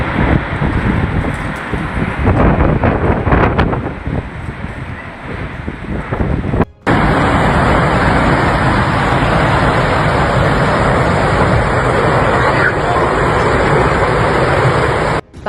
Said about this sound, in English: ¡Hay un tornado!